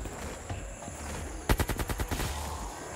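AK rifle fire in Call of Duty Zombies: a sharp burst of about eight rapid shots mid-clip, loud and close, with quieter game ambience before and after.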